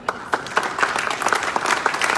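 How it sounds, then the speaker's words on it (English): Short burst of applause from an audience at an exhibition opening at the European Parliament, close and fairly dense clapping with clear individual claps popping through. "Please give an applause to Jadwiga Wiśniewska."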